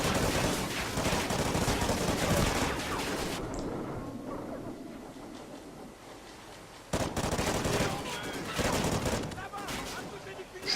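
Gunfire in the Call of Duty: Ghosts campaign, with dense rapid automatic bursts and explosive crashes that drop away to a muffled lull before the firing resumes loudly, while a player talks over the action.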